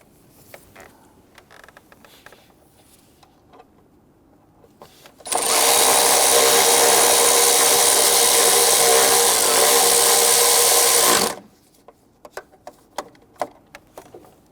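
A power tool tightens the back bolt on a bracket beneath the throttle body of a 2011-2019 Ford Explorer with the 3.5L V6. It gives one loud, close, steady whir lasting about six seconds, with quiet shop noise before and after.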